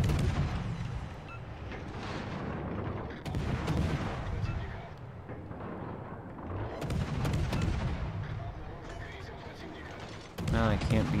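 Naval ship guns firing in World of Warships: Legends, repeated heavy booms and rumbling salvos at a steady pace, with a voice talking over the battle.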